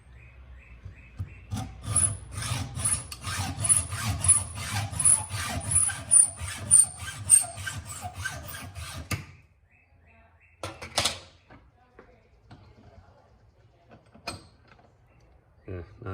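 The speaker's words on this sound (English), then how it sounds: "A little filing." Hand filing on a 2006 Triumph Speed Triple case cover part: steady back-and-forth rasping strokes for about nine seconds, fairly close and moderately loud, then a few scattered clanks and handling noises.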